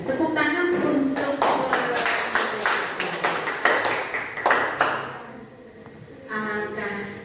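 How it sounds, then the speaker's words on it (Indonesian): Brief clapping from a gathered audience at a teachers' program presentation, a run of distinct sharp claps in uneven rhythm, mixed with voices and fading out before speech resumes. "Tepuk tangan untuk"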